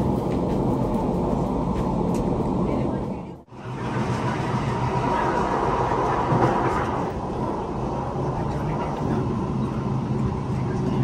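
A steady low rumble of a train rolling along rails in Switzerland, with a brief dip partway through before the continuous roar resumes.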